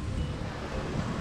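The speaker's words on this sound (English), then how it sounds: "today is a little bit windy" Wind and surf at Legian Beach in Bali on a breezy day: a steady, close roar of gusting wind buffeting the microphone over the broad wash of waves, with no voices.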